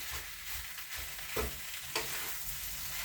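Thin slices of beef sizzle steadily as they brown in a hot pan while a roux-like coating thickens on the pan and meat, with a continuous crackle and a couple of sharper pops, close and alone.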